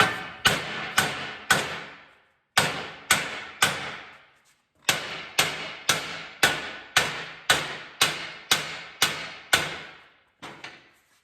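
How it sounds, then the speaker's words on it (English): Loud, sharp hammer blows ring on a metal Land Rover bumper, landing in quick bursts of three or four, with short pauses between groups. "I'm going to come in here with the hammer"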